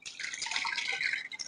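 Water sloshes and splashes steadily in a bowl as fresh water is mixed for a patient's bed bath, a close, continuous watery swirl with no talk.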